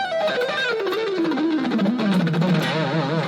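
Electric guitar run on the neck pickup with effects and distortion, a smooth descending line of connected notes that ends in wavering vibrato, sustained and alone without talk.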